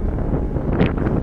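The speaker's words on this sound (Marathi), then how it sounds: "किती छान हवा सुटली" Steady wind buffets the microphone on a cruise ship sundeck, a continuous low rumbling roar with a brief gust swelling near the end.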